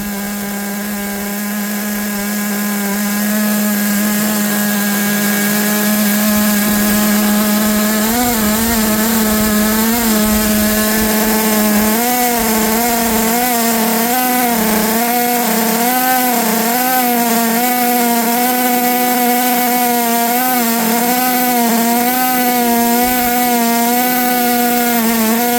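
A Colt Nitro 10 RC car engine runs loud and steady with a buzzing, wavering drone that warbles in pitch as the throttle is blipped, close by and with no voices.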